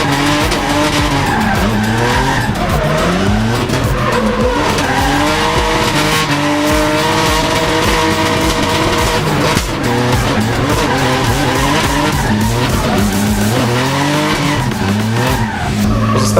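A drift car's engine roars continuously as smoking tires squeal and skid loudly at a drifting championship in Bielsko-Biała, the pitch rising and falling with throttle.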